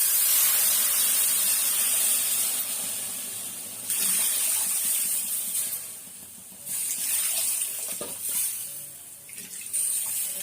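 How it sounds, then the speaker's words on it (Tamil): Tamarind water pours and splashes continuously into a hot pan of fish curry, hissing and steaming, with a few brief pauses in the flow. "இப்போ கரைச்ச புளியை இதை நம்ம ஊற்றிப்போம்."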